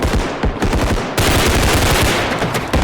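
Rapid bursts of rifle fire shot from the hip in a bodycam-style shooter game, loud close automatic volleys with a brief gap before a second continuous stream of shots.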